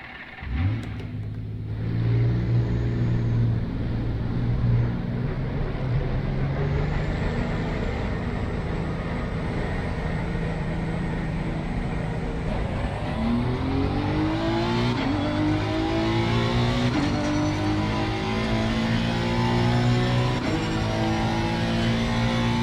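A Honda NSX EVO GT3 race car in Assetto Corsa Competizione, lapping Kyalami Grand Prix, roars loudly and continuously, its engine climbing through the revs with repeated upshifts and steady high-speed drone.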